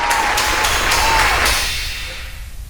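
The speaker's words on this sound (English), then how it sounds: "I think that deserves a round of applause." Applause from a group, steady and fairly loud, tapering off toward the end with a few scattered claps.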